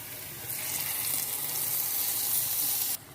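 Hot fried tempering hits a pot of moong dal with a sudden loud sizzle that holds steady for a few seconds, then cuts off sharply, close up in a home kitchen.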